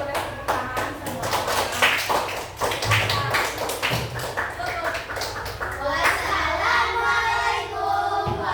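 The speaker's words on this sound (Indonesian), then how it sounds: "Kita kasih apresiasi terlebih dahulu untuk kelompok 1. Boleh tepuk tangan semua." Fourth-grade pupils in a classroom clap together in applause for a group, a dense burst of hand claps mixed with children's voices and chatter, loud and close, fading into talk near the end.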